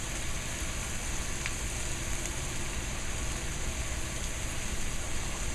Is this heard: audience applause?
no